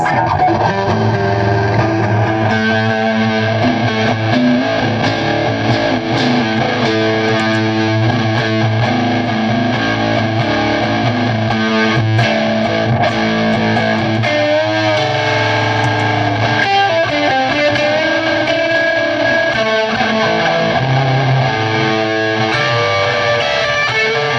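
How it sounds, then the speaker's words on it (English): A heavily distorted electric guitar played through a Walrus Audio Iron Horse pedal plays continuously and loud, thick saturated chords and notes with a buzzing, over-the-top fuzz tone. "Which is like fuzz distortion. It's like way over the top"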